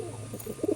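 Pigeons kept for sale coo softly nearby, a low murmuring call that swells into a couple of fuller, throaty notes near the end, heard alone.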